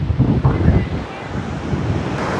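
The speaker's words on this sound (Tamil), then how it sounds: "காற்றெல்லாம் கொஞ்சம் அதிகமாக இருக்குது" Strong wind buffets the microphone as sea waves roll and crash on Velankanni beach, a loud, continuous roar with a voice faintly beneath it.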